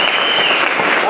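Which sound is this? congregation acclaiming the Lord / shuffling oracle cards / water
congregation acclaiming the Lord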